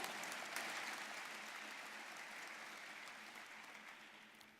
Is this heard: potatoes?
no